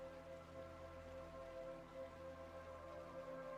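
Soft, steady rain falling continuously, faint and even, layered under a low sustained musical drone with no voices.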